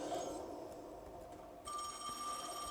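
A telephone rings with an incoming call during a Dishwashing Simulator game session, a faint electronic ringtone that cuts in partway through over low room noise.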